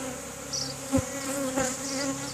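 A caught swarm of honey bees hums steadily at a new hive box, a dense close buzz with a few individual bees droning louder as they pass near.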